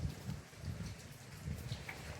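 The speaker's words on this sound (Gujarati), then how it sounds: "જોરદાર વરસાદ" Heavy rain pouring outdoors during a strong windstorm with a power outage, a dense steady hiss with soft low rumbling swells, fairly faint and continuous with no voices.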